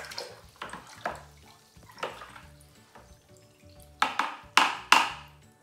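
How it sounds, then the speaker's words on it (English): Wine yeast is stirred into the must of a New Zealand Sauvignon Blanc white wine kit, giving a series of sharp liquid sloshes and splashes that come louder and closer together toward the end. "I'm going to give a little stir and get them introduced in."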